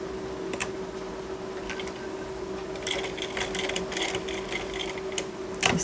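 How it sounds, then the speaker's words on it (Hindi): A sewing machine stitches along the folded edge of a girl's kurti, with a steady close motor hum and bursts of rapid needle ticking toward the end. "यहाँ इसके ऊपर से सिलाई लगाएंगे सबसे पहले"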